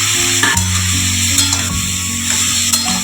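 Peas and mixed vegetables frying in a pot for vegetarian bhog khichuri, a dense continuous sizzle close by with light stirring taps and a steady low hum underneath, no speech.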